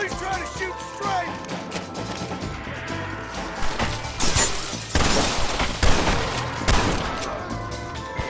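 Loud gunfire in Red Dead Redemption, a chaotic fusillade of rifle and pistol shots with cracking impacts and bursts, mixed with shouted voices over the battle.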